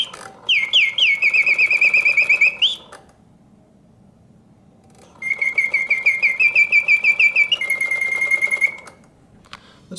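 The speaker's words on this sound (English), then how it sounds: "the bird sings with full voice, hitting all the proper oscillating notes, animates perfectly" A vintage mechanical singing bird in a cage whistles loud, fast warbling trills in two long bursts separated by a short mechanical pause, with faint whirring beneath.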